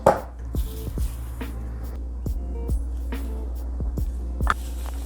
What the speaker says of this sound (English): into the eggs, we're gonna mix in 1 1/4 cup of sugar